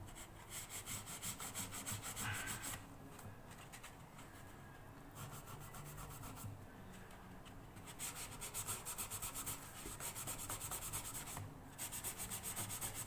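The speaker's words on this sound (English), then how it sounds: "These abrasive pads are pretty good, because they're not aggressive, and because they're made of sponge, you can get into all nooks and crannies." An abrasive sponge pad scrubs the wooden body of a Yamaha FG300A acoustic guitar in quick rhythmic back-and-forth strokes, a close steady rasping with brief pauses between passes.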